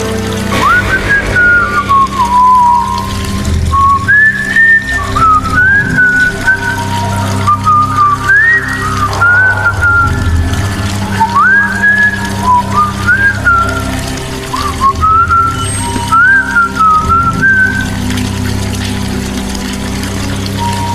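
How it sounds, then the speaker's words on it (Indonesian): A person whistles a wandering, tuneful melody up close in a bathroom over a steady low hum of running water or a pump. "spontan aku bersenandung sambil bersiul"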